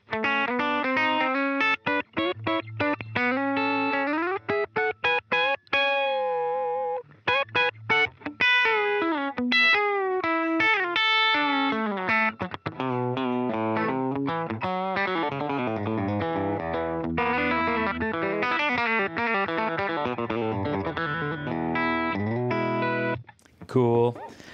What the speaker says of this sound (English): We'll put the compressor back on so you can hear that.